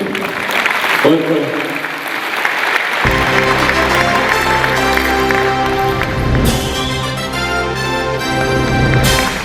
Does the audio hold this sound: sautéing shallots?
no